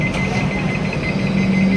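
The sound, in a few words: automatic door lock alarm on Tejas Rajdhani Express train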